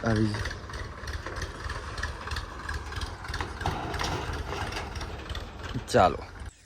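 A farm tractor engine idles during maize harvest work, a steady, throbbing low rumble throughout, with voices and a brief clatter near the end.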